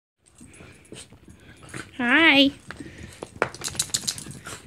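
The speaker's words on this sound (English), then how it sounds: "I'm with my doggy friends." Two pet dogs whimper and yip excitedly in a home, with a loud, rising whine near the middle of the short stretch, while a woman greets them warmly between their sounds.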